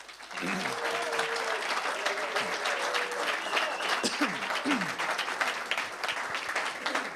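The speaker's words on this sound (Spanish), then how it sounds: "Fuerte aplauso," Sustained audience applause fills a hall at a popular-music composition contest and acoustic concert series in Aragón. Steady, dense clapping runs from start to finish with a few voices and whoops mixed in.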